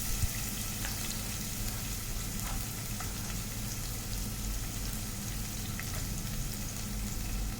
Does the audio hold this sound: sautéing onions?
yes